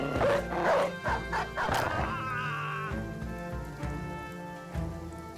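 A dog in the Battle Brothers video game barks in several sharp, quick yelps early on, mixed with rain-like patter and game sound effects that continue after the barking fades.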